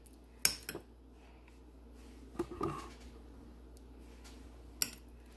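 A spoon scoops corn into a bowl of potatoes, giving a few soft, scattered clinks against the dish over a quiet background.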